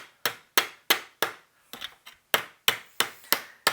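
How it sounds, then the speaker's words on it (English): A hammer folds over a sheet metal edge while fabricating a tube phono preamp chassis: about ten sharp, close metallic knocks in a steady rhythm, with a brief lighter pair midway and no talking. "And we don't want to hammer this super hard flat."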